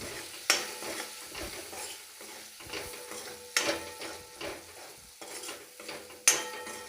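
A spoon stirs tomato with spices, chutney powder, turmeric and coriander-cumin in a tempering pan, giving scraping strokes and three sharp metallic clinks against the pan over a faint sizzle, with no talking.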